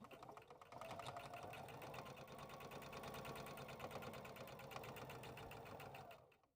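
A sewing machine hums and chatters at a steady fast pace for about six seconds while stitching fabric down both sides, around the corners and across the bottom of a flap, then winds down.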